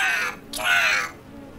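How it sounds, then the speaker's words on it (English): Seagulls scream on Draug Island, two or three harsh, raspy calls close by, with a faint voice underneath. "The seagulls scream."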